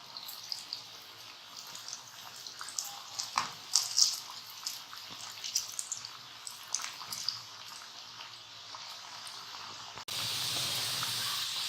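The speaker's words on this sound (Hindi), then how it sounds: "अब हमने इनको लाइट फ्लेम पे फ्राई करना है ताकि ये एकदम से ना हो जाए, बल्कि आहिस्ता आहिस्ता ये बिल्कुल अंदर तक फ्राई हो।" Potatoes fry gently in a pan over a low flame for crispy potato bites, giving a steady soft sizzle and hiss with small crackling pops, then a sudden louder, even rush of sizzle near the end.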